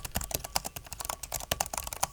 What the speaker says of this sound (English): And that Cherry MX keyboard is loud